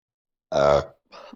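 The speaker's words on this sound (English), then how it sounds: "Every time I'm on here with you guys, I burp in your face." A single loud, close burp lasting about half a second, with a shorter, softer throaty follow-up a moment later; no talking.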